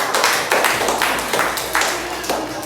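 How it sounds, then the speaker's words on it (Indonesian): A group of students claps in a classroom, loud and close, with a steady run of overlapping hand claps that keeps going without a break. "kita beri aplaus kepada kelompok"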